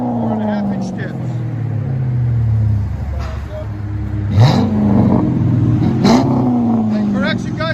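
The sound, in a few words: Chrysler 300C 5.7L HEMI V8 exhaust revving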